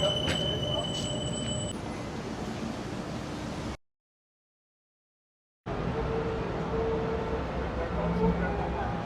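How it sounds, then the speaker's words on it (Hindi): A metro train pulls into a station in Port Louis, Mauritius, with a steady rolling rumble and faint wheel whine. The sound cuts out completely for about two seconds midway, and a voice speaks over the train. "एक और बुलेट ट्रेन, मेट्रो ट्रेन आ चुकी है।"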